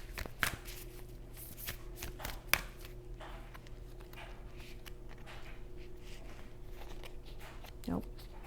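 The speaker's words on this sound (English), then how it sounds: "So I'm going to pull an oracle card and then close out this reading." Oracle cards being shuffled for a reading, with soft papery riffles and flutters and a few sharper card slaps close by, while a person talks quietly over them.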